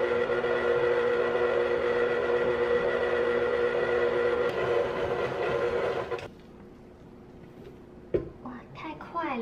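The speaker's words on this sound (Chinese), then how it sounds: "我这一次第一次用搅拌机打" A blender mixes a starch and liquid mixture with a loud, steady motor whine for about six seconds, then shuts off, and a voice speaks afterward.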